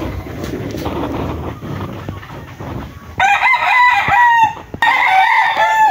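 A sweater hatch gamecock stag, a fighting rooster kept for breeding, crows loudly and close by in two long bursts, with shuffling and background noise before the first call.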